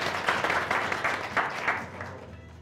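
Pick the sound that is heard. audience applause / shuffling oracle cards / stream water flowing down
audience applause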